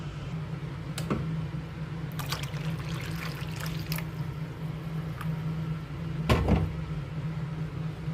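Water trickles and splashes into a sardine curry gravy in a pan, with a few sharp clinks and knocks over a steady low hum, and no one speaking.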